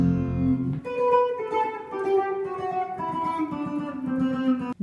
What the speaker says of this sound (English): The effects that they typically use are phaser and chorus on their guitar.